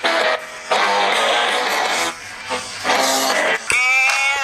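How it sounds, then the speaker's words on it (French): A Xiaomi Mi Max 3 phone's second speaker playing music, thin and bright with little bass, cutting in and out in bursts, ending with a rising tone. "Ça, c'est le son du deuxième haut-parleur."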